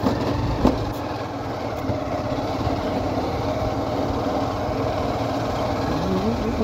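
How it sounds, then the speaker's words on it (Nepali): A motorcycle engine drones steadily while riding over a rough, bad road through the countryside in Nepal, a constant close rumble with occasional knocks and bumps beneath a person's talk. "यस्तो खराब बाटो हिँडिरहेछौँ हामी बाइकमा।"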